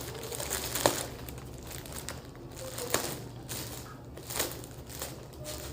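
Cardboard mystery box packaging is cut open with scissors, heard as close crinkling, snipping and crackling of packing material in irregular bursts with rustling between.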